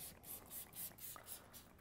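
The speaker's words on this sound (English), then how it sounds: "again, spray everything down." Short hissing bursts from a spray bottle misting mushroom-growing materials, about seven quick pumps in a steady rhythm, close and fairly faint with no other sounds.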